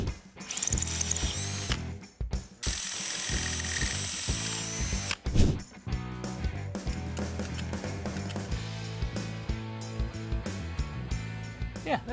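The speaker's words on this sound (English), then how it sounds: "And drill a couple holes down." A power drill whirs in repeated bursts, rising and falling as it bores into material, with short pauses and clattering between runs, close up.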